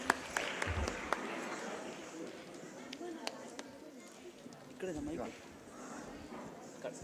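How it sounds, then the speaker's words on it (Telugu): An audience at a live community stage event applauds to welcome a singer, with a steady crackle of clapping running under a voice talking throughout. "మనందరి చప్పట్లతో తనని వేదిక మీదకి ఆహ్వానిద్దాం."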